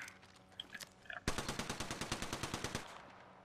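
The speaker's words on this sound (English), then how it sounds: "Make gunfire." A long rapid burst of automatic gunfire from the video game Apex Legends, loud and evenly paced, preceded by a few scattered shots and faint game sounds.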